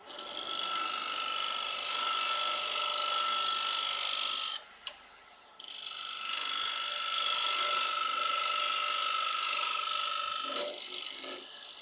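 A small oak plate spins on a wood lathe while a tenon is cut, giving a steady high scraping hiss and whir that stops for about a second, then resumes with a loud, continuous tone.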